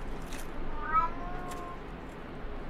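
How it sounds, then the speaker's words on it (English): A pet cat meows softly a couple of times, faint and drawn-out over a steady background hiss. "If you can hear that, that's my cat."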